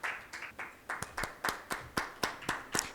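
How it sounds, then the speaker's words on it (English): Sparse, rhythmic clapping from a small audience at a retail and brand licensing panel event, about ten distinct claps in slow succession, fairly close and with no talk. "Let's have a huge round of applause and invite on stage our moderator"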